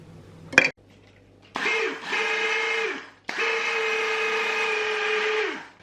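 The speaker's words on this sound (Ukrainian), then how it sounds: "Перекручуємо, перемелюємо капусточку ось тут" Cabbage ground in an electric meat grinder for cabbage rolls: a steady motor whine runs in two long bursts with a short pause between, after a brief clatter at the start.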